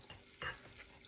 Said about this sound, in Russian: Сейчас масло растопится, буду добавлять сюда муку.